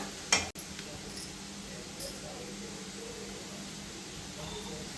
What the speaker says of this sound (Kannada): ಈ ರೀತಿ ಇದನ್ನ ಚೆನ್ನಾಗಿ ಫ್ರೈ ಮಾಡ್ಕೋಬೇಕು